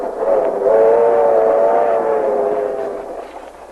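A train rolls along as a radio drama sound effect, a loud steady rumble with a sustained whistle tone layered over the top, fading slightly toward the end.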